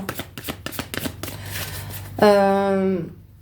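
Oracle cards are shuffled by hand for a divination reading in a quick run of riffling flutters and taps, followed by a sustained tonal hum near the end.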